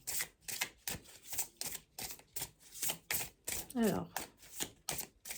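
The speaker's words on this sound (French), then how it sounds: "je vais tout de suite mélanger les cartes" A new deck of oracle cards is shuffled by hand with a series of close, crisp, regular riffling clicks and rustles, while someone speaks briefly in French.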